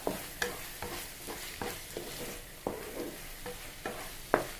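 Garlic being stirred into food in a hot frying pan for a home lunch: repeated scraping strokes of a spoon against the pan at a steady rhythm, over a continuous soft sizzle, close and fairly quiet.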